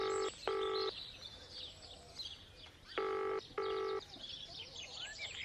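Four short bursts of electronic keypad tones in two pairs as a telephone number is dialed, with birds chirping faintly in the background between them.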